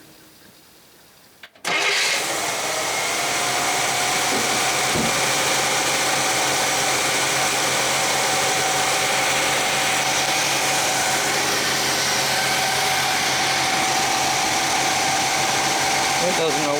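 A 1966 Chevy Biscayne big-block V8 with a Quadrajet carburetor starts after a brief crank and settles into a steady, loud, even run that holds for the rest of the clip.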